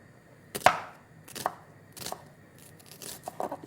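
A knife chops an onion on a cutting board in a home kitchen, giving several crisp, close cuts at uneven intervals with short pauses between them.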